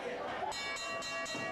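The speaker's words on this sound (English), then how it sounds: "Those are added extra bell rings that I had to edit in" Ring bell at a wrestling show, struck repeatedly in a bright, metallic pattern with about four evenly spaced strikes, each ringing out and overlapping the next, laid over continuous talk.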